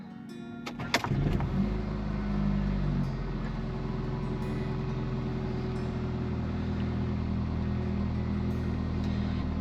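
Mercedes CLA car after a battery replacement starts off with a sharp thump, then a steady engine drone and low road rumble hold at close range throughout, with no talk.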